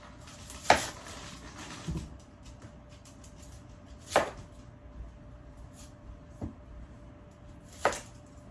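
A yellow onion is chopped with a knife on a board in a few widely spaced, sharp, close chops against a quiet room with a faint steady hum.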